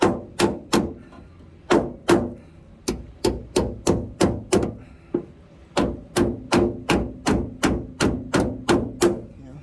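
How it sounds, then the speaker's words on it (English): Repeated loud carpenter's hammer blows strike metal in a steady, slightly irregular rhythm, about twenty sharp clangs close up, bending metal for tire clearance on a 4x4 Astro Van. "I should be able to pound on this and bend it up"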